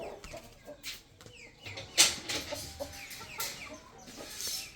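A rooster on a farm clucks in short irregular bursts, fairly close, with a sharper squawk near the middle and softer clucks and rustling between calls.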